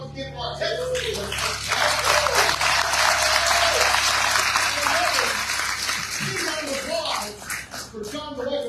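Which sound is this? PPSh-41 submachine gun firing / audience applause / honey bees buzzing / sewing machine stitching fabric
audience applause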